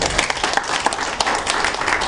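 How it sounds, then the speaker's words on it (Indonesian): Seminar audience applauding at an entrepreneurship motivation event, a dense, steady burst of many hands clapping that fills the whole moment at close range, with no talk over it. "Tepuk tangan dulu dong"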